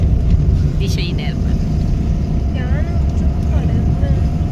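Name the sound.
car driving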